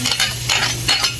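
Garlic browning in hot oil in a pan gives a steady, close sizzle with a few light stirring scrapes over about a second, no talk.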